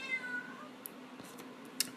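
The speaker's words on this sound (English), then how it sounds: "Here comes the cat." A house cat meows once near the start, a short, fairly faint harmonic cry, followed by quiet room noise and a couple of small ticks and clicks.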